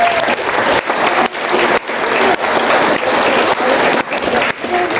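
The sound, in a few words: applause at wedding speech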